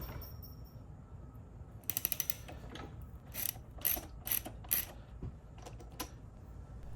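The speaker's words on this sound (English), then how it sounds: "And these bolts will be loosened with a 9/16 socket." Ratchet socket wrench with a 9/16 socket loosening bolts on a Harley Lowrider motorcycle's front suspension, making short bursts of crisp, quiet clicking with pauses between strokes and no talking.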